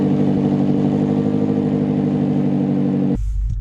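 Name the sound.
BMW X6 M Competition engine starting and roaring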